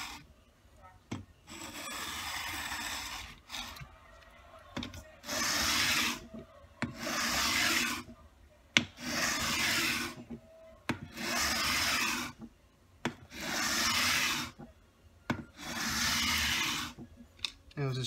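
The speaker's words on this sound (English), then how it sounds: "It was this cheap sandpaper, so the grits are gonna fall off." Cheap sandpaper scrubs back and forth across the frets of an Ibanez GSR200 bass guitar in steady, rhythmic strokes of about a second each, with brief pauses between, close and moderately loud.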